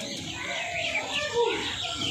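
Soft chirps and calls from a pair of Malbai pigeons kept at home, fairly close, rising and falling irregularly over a faint room background.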